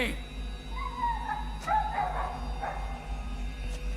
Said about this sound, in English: After some time, Janek heard Teeny barking alarmingly.